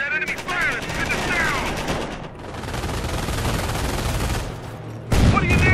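Enemy gunfire in the real-time strategy game Company of Heroes: dense bursts of machine-gun and rifle fire crackle continuously, with sharp rapid shots at the start and a loud renewed volley near the end, and a voice speaking over the battle at times.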